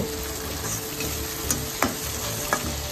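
Ginger, garlic and chili paste fry in a pan with a steady, dense sizzle, broken by a few sharp clicks and scrapes of stirring; no voices.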